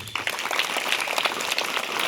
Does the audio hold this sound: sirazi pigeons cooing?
no